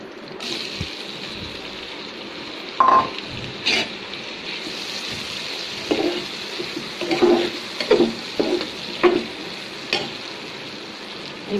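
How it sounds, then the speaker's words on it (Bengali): Onions fry in mustard oil in a pan just used for frying hilsa fish. A steady close sizzle runs throughout, broken by occasional clatters and stirring knocks. "এই পেঁয়াজগুলো ভাজা ভাজা হয়ে গেলে তারপর তুলে নেব"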